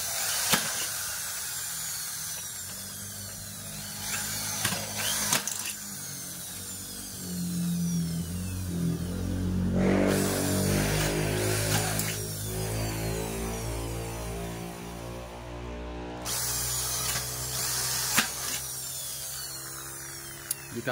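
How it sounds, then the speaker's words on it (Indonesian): A small drill bit bores into an aluminium cabinet door to fit a handle, a close, whining motor that rises in pitch and holds through the middle stretch, with quieter handling noises before and after. "kita bor dulu pakai bor ukuran kecil"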